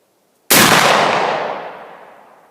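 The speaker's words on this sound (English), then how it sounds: "Shot number one, 90 grains of double F powder and a 320 grain maxi ball." A single loud muzzleloader shot from a Thompson Center Hawken rifle loaded with 90 grains of FF black powder and a 320-grain maxi ball, a sharp close blast with a long fading tail.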